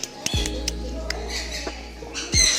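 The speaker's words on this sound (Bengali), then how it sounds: "বাবু দেখো চিড়িয়া সব দিয়েছে, খেতে দিয়েছে" Caged birds squawking while being fed, giving short, scattered chirps and squawks over a steady low hum, with a louder cluster of calls at the end.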